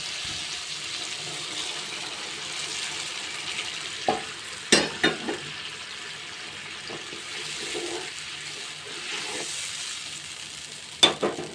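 Hot water added to a tomato and hilsa curry in a pan makes a soft steady sizzle and bubbling, broken by a few sharp clinks of a utensil against the pot.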